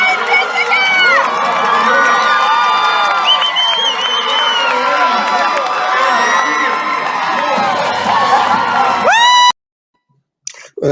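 A stadium crowd at a Parapan Games race screams and cheers loudly and continuously, with high shouted whoops layered over the roar, then it cuts abruptly to near silence.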